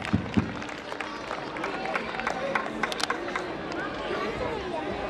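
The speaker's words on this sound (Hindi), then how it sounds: "जोरदार तालियां दर्शकों" Applause and crowd chatter from an audience at the RN School annual function, a busy mix of clapping bursts and babble with no single voice standing out.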